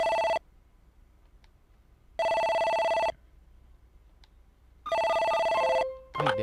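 A telephone rings in a detective adventure game, three loud steady electronic ring bursts separated by pauses of silence, the last cut short as it is answered.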